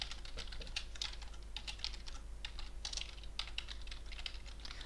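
Rapid, fairly quiet clicking of a computer keyboard during game-development work, steady irregular keystrokes throughout with a low background hum and no talking.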